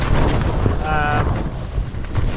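Strong wind roars and buffets the microphone in a loud, continuous rush, with a brief flapping rattle in the middle.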